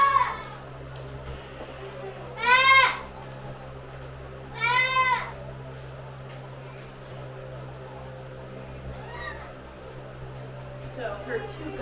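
Goats on a farm bleating in a barn, two loud, wavering bleats a couple of seconds apart, with a fainter one later, over a steady low hum of background noise.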